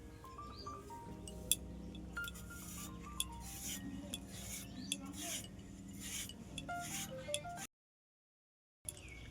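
A knife slicing potatoes thickly on a board for homemade aloo papad, making a series of close, soft scraping cuts mixed with light clinks of utensils.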